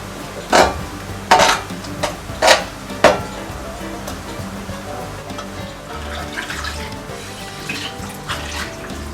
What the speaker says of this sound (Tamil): இந்த தண்ணி கொதிக்க ஆரம்பிச்சிருச்சு பாத்தீங்களா?